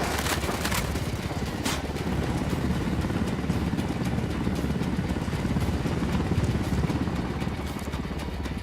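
Helicopter in Ghost Recon Wildlands, a steady loud rotor and engine drone filling the scene, with a few sharp cracks near the start and no talk.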